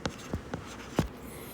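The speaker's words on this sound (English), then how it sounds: "So I should write 2SF over here" A pen scratches on paper while circuit worksheet answers are noted, four short, quiet strokes spaced unevenly over a second and a half, close by with no voices.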